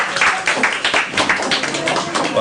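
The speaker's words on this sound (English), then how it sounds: "Lots of clapping tonight." A small group claps at a school board meeting, producing rapid, close, uneven hand claps that run loud and continuous for a couple of seconds.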